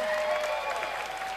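An audience applauds at a live rock concert in a beer hall, a dense, steady wash of clapping from a crowd that carries on without a break.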